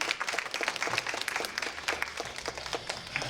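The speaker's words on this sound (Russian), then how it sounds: "Аплодисменты." An audience at a festive concert for a regional community association in Moscow gives steady, full applause with many overlapping claps, moderately loud and even throughout.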